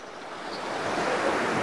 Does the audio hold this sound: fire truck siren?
no